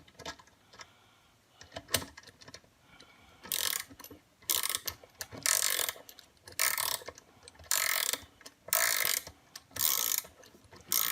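A flex head ratcheting wrench tightening a bolt, with close, crisp ratchet clicking in regular bursts about once a second and brief pauses between strokes.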